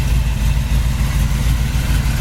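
A 1969 Chevy Nova's 307 V8 with headers, Edelbrock intake and a 4-barrel carburetor idles close up, a steady deep throbbing burble with no other sounds.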